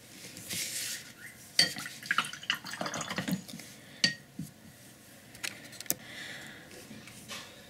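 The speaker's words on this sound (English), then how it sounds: "I wash my brush," A paint brush is rinsed in water between strokes of Russian Northern folk house painting, giving soft splashes and clinks against a container, with intermittent taps and drips alone, fairly quiet.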